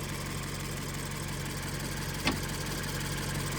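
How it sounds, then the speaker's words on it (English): A stock Subaru boxer four-cylinder engine idles in a Toyota 86, a steady low, even hum running throughout with one brief sharp tick partway through. "got a Boxer 4-cylinder Subaru motor."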